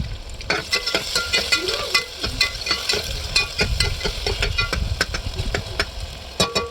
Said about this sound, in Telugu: కొంచెం లైట్ బ్రౌన్ కలర్ వచ్చేంత వరకు ఫ్రై చేసుకోవాలి